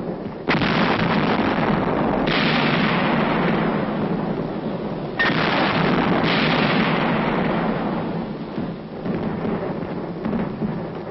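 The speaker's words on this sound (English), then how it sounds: "Coordinate their fire in the assault. Surface and air bursts clear the way for the riflemen." Artillery surface and air bursts pound entrenched positions during a Korean War assault, a heavy, rumbling barrage with several loud, broad blasts rolling into one another over continuous low thunder, with no voices.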